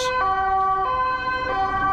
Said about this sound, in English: And there's a police car on our right.